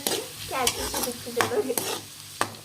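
Chopped onions fry in a pan for street-style veg fried rice, a soft sizzle broken by several sharp spatula scrapes and stirring knocks, close and without talk.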